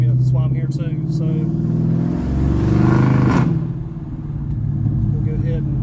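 The engine of a modified Dodge Charger rumbles loud and close, swelling into a deep rev around the middle before easing back to a throbbing idle, with someone talking over it.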